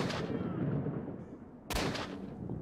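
A single loud gunshot from an AK rifle in the video game S.T.A.L.K.E.R.: Shadow of Chernobyl, a sharp broadband blast with a short tail, following a stretch of steady game ambience.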